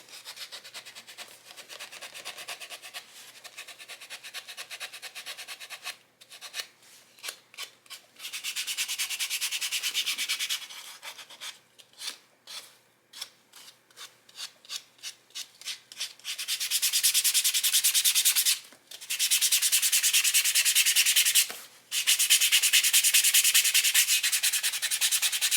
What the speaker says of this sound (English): One thing with sanding is that you really have to start at the right grit